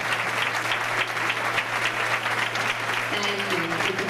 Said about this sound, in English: Let's give them a round of applause for all their outstanding achievements this past year.